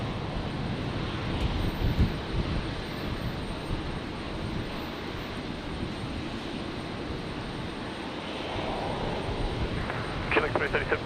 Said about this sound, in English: Virgin 1642 just about to touch down, coming in from Launceston in Tasmania.